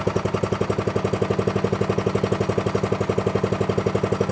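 Atco Royal B24 lawn mower petrol engine running steadily after a carburetor clean, a fast even chugging putter, close and loud with no talk over it.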